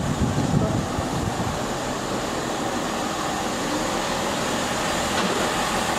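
A steady broadband rumble of a Chiltern Railway train running, continuous and even throughout with no clear pauses.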